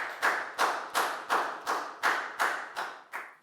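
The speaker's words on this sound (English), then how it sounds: "give yourselves all a big clap" Students in a Year 4 classroom clap together in a slow, even rhythm, about nine sharp claps spaced roughly evenly, fairly close, with no talking.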